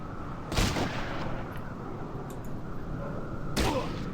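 Shotgun blasts in the tactical video game Fallout Tactics: two booming shots about three seconds apart, each a short broad burst over a steady hum of game ambience.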